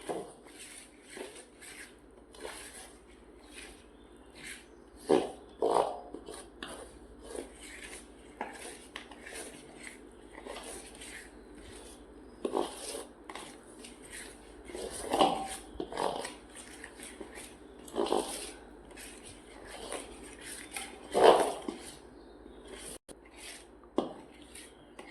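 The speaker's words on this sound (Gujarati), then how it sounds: "હવે બધું મિક્સ કરી લઈએ." Shakarpara dough being mixed with oil in a bowl: repeated clinks, scrapes and knocks against the bowl in an irregular rhythm, close and fairly loud, with no talk.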